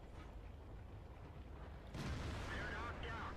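A tank cannon in World of Tanks fires with a sudden heavy boom about halfway through, its blast and rumble lingering after a quieter stretch of game noise.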